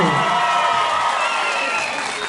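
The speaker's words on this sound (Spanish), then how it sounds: "Un aplauso grande y un grito de histeria para mi presidente" A large outdoor crowd in Manzanares, Caldas applauds and cheers for Colombian president Álvaro Uribe, a dense, loud, unbroken roar of clapping and shouting that fills the whole stretch.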